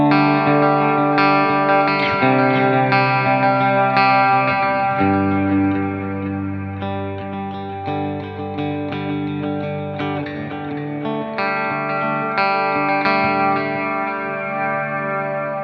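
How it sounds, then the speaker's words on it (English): Electric guitar chords through reverb and delay pedals and a stereo signal blender, ringing out with washy reverb and trailing delay repeats, sustained and full, with no voices. "maybe I want the reverb to be big, but just a little bit of delay in there."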